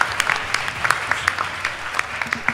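An audience at a youth panel discussion in Belgrade breaks into a short burst of applause, moderately loud scattered clapping that tapers slightly, heard alone without talk.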